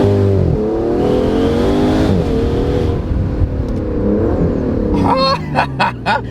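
Aston Martin DBS Superleggera Volante convertible with a 715-horsepower V12 accelerating hard, its loud, close engine note rising and dipping through gear changes, with a sharper burst near the end.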